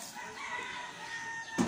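Pet chickens clucking and crowing while being fed a mix of scraps with rice-rinse water, close and moderately loud, brief calls with a sharp burst at the end.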